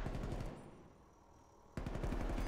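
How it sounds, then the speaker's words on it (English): Rapid automatic gunfire in a competitive shooter video game match, a dense rattling burst that stops briefly and then resumes, loud and close with no talk. "Shots are getting fired."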